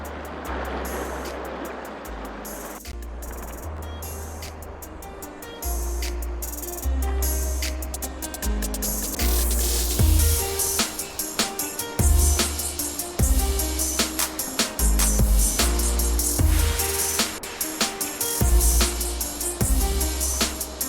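River water rushes around rocks in Zion Narrows, a loud continuous churn heard up close, with irregular splashes and knocks building in the second half.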